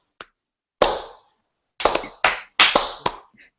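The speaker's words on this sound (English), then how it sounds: "Do we get a slow clap going?" A small audience at a JavaScript training session starts a slow clap, with a single clap followed by a handful of separate, spaced claps that speed up slightly toward the end, each ringing briefly in a quiet room.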